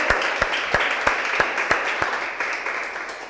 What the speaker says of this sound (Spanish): ¿Por qué le das un fuerte aplauso a Dios si tú lo crees?